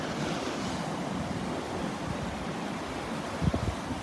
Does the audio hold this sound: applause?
no